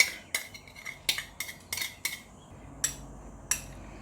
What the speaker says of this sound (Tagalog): Kaya natin mix ang onion, tomato, ito yung para toppings niya, then garlic.